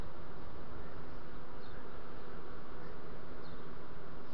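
Buckfast honeybees buzz at an open hive during a frame inspection, making a continuous dense drone that stays steady and close with no talk over it.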